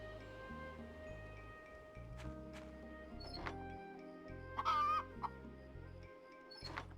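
A single backyard chicken clucks close by in short repeated bursts, with one louder squawking call midway, over quiet background hum.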